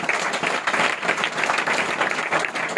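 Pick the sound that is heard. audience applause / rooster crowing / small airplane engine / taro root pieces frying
audience applause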